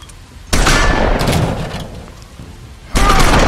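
Loud, close gunshots in The Wolf Among Us, with a sharp blast followed by a rumbling stretch and a second heavy shot near the end.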